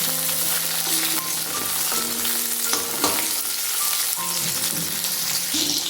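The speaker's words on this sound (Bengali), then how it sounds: "পেঁয়াজ ভাজা ভাজা হয়ে গেলে দিয়ে দিচ্ছি টমেটো কুচি" Chopped tomato hits hot oil with fried onion in a pan, giving a loud, steady sizzle with scraping stir strokes and brief clinks throughout.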